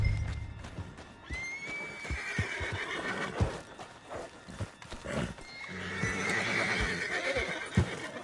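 A horse in Red Dead Redemption II whinnies loudly several times while hooves clip-clop beneath, amid busy game sounds and thumps, with no speech.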